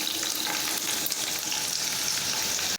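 Six finely chopped garlic cloves fry in sunflower oil for a chilli sausage dish, giving a dense, steady, close sizzle that holds evenly throughout and cuts off abruptly at the very end.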